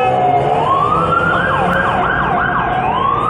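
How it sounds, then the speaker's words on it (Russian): An ambulance siren wails continuously with rising and falling tones, loud and fairly close, over steady traffic rumble in a street in Alanya, Turkey. "Скорая едет."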